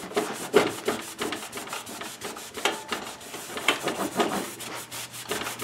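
Paste wax being buffed off a planer with a cloth, a steady close rubbing swish in uneven strokes with no voices.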